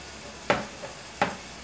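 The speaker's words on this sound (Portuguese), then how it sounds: "Enquanto tá dourando a cebola" Chopped onion browning in a pan while pork leg is being prepared, sizzling softly as a utensil scrapes through it in two distinct strokes, close and fairly quiet with no voices.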